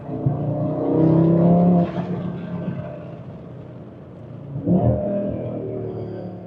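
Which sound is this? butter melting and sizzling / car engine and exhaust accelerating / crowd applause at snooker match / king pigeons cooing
car engine and exhaust accelerating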